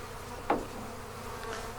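Honey bees being installed into a hive keep up a steady, moderate buzz, with a sharp knock near the start and the hum continuing alone throughout.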